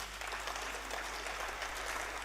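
A steady wash of applause from a conference audience, even and sustained throughout with a low hum underneath.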